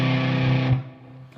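Single distorted electric guitar chord from a song's verse, struck once and held for about a second, then cut short.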